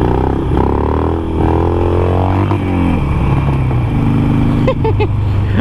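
An older supermoto motorcycle passes close by on a road, its engine note rising and falling with a steady buzzing drone over other traffic noise, with a brief higher mechanical whine near the end.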